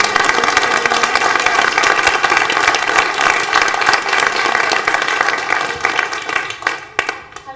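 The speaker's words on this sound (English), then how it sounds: "can we get a really big round of applause?" Audience applause at a business talk or event, dense and sustained clapping filling the room, loud and continuous before tapering off near the end with a few scattered claps.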